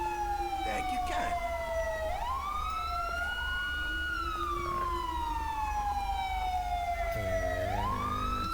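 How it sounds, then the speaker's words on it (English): A police car siren wails in the GTA V LSPDFR game, a continuous rising and falling electronic tone that sweeps up twice over a steady engine rumble, alone without talk. "I don't know if my siren's still on."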